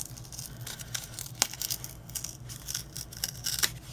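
A paper card template piece is peeled up, making short crinkly tearing and rustling bursts in quick succession, close and fairly quiet.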